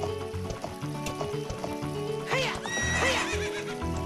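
A horse in the video game Zelda Ocarina of Time neighs loudly against a steady clip-clop of hooves and layered game music, with the whinny rising clearly near the end.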